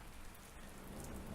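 Steady rain falls in a soft, even patter with a low rumbling undertone, faint and continuous, with no voices.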